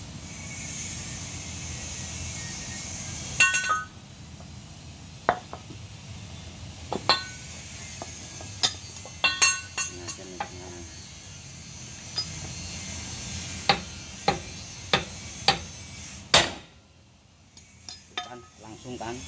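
Hammer blows on a motorcycle front wheel part during repair: a series of sharp, separate metallic clinks spaced over several seconds, close and fairly loud against a quiet workshop background.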